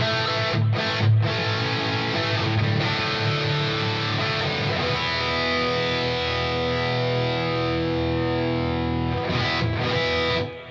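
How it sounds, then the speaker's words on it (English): An electric guitar through a Line 6 Helix with heavy high-gain distortion rings out in sustained, saturated chords, with a couple of brief muted scrapes near the start and end. "I go hit channel 2, and that just bumps up the gain."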